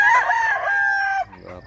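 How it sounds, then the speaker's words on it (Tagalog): Large rooster at a market crowing once, a loud near crow that rises and holds before breaking off into a short rough tail. "Big size nga manok."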